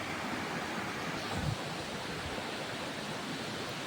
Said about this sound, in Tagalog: Waterfalls! From mountain.